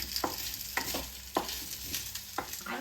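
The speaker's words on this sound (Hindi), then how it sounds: "अब आलू को भी हमें अच्छी तरह से प्याज के साथ मिक्स कर लेना है।" Potatoes and onions stirred and fried in a pan for an aloo bhindi sabzi, a steady close sizzle broken by four or five distinct scraping stirs at irregular intervals, with no talking.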